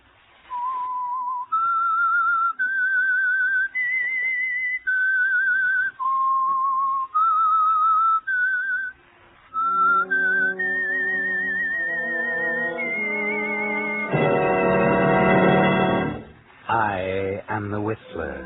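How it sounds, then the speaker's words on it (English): A lone whistler performs the eerie signature tune of the old-time radio mystery drama The Whistler, sponsored by Signal Oil, with clear sustained rising and falling notes, then swelling orchestral music joins near the end. "That whistle is your signal for the Signal Oil Program"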